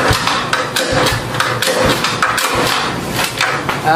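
A Rusi motorcycle engine cranks repeatedly without catching, with a weak, low-battery starter, giving a rough, rhythmic churning of close mechanical bursts across the whole stretch.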